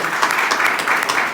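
A church congregation claps in a brief, dense burst of applause that carries through the whole moment, close and loud.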